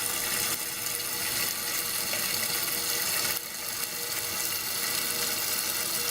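Water rushes steadily into a toilet tank as it refills toward the float, a constant close hiss and gurgle that barely changes, with no voices.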